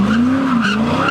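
A Mustang's tires squealing in a long, loud, wavering screech at a street car meet, with the engine roaring underneath, close and continuous.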